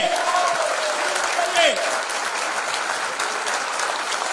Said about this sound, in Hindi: खुद के लिए एक बार जोरदार ताली बजाइए।